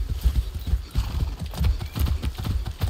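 Horse hooves clip-clopping at a trot in Far Cry 6, a steady rapid rhythm of close hoof beats with a brief whinny, loud and unbroken with no talk over it.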